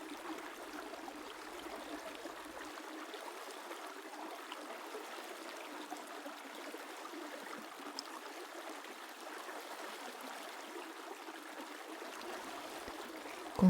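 A river stream flows with a steady, even rush and soft trickling, unbroken and moderately quiet throughout, with a small knock at the very end.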